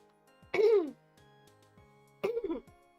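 Two short, rough throat clearings a moment apart, close and fairly loud, over a quiet background.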